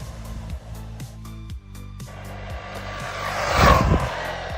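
DeeRC 9207E brushless RC truck with a 5400kv motor and 120A ESC, its electric whine stepping up and down in pitch as it accelerates, then a rushing burst of tire and motor noise close by near the end.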